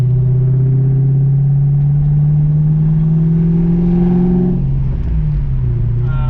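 A 1995 Ford Mustang Cobra engine runs at a steady idle, a loud, close, low rumble whose pitch sags briefly near the end.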